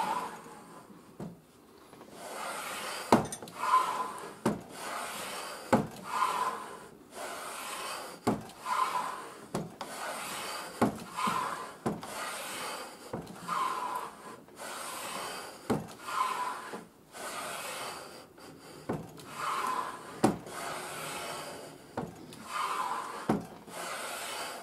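A wooden hollow hand plane cuts shavings from a board in a steady series of repeated strokes, each a short scraping rasp ending in a sharp knock, close and moderately loud.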